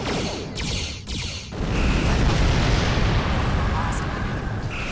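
Starship weapons in the video game Star Trek Online fire on a satellite as a sustained, roaring barrage with a few sharp bursts early on, continuous and loud throughout.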